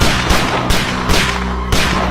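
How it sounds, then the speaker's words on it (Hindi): Gunshots fired at a group in a Bollywood comedy scene: four sharp, loud cracks spaced about half a second apart, each with a short booming tail over a dense background. "लगता है कोई गोली चला रहा है हम पे"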